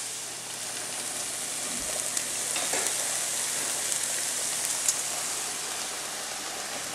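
Bacon and onions sizzle steadily in a pan, a constant crackling hiss with small pops and a brief clink partway through, with no talking.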